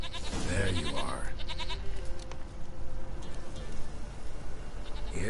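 Goat bleating in The Witcher 3: Wild Hunt, a loud wavering bleat up close at the start, then quieter game ambience with faint calls and a shorter bleat at the end.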